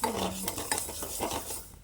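Fenugreek seeds are dry-roasted in a pan and stirred, giving short scraping, clinking strokes of a spoon against metal over a faint sizzle, close and fairly quiet.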